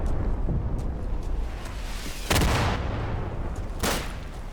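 Grenade explosion in Insurgency: Sandstorm, a loud booming blast midway, followed by another distant bang and scattered gunfire over a low rumbling battlefield background.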